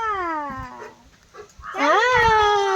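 A dog gives close, loud drawn-out whining howls, one long falling cry followed by a rising, wavering whine after a brief pause.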